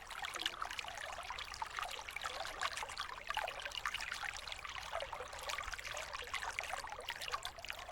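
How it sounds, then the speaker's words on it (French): Water trickles steadily in a small cascade through lengthwise-hollowed tree trunks that form little basins, a continuous close babbling flow with no voices. "Des troncs sont creusés dans le sens de la longueur et forment des petits bassins dans lesquels l'eau s'écoule en cascade."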